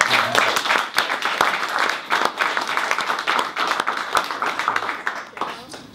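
An audience claps at a talk event, steady sustained applause with sharp individual claps standing out, moderately loud and close, lasting several seconds with faint voices underneath.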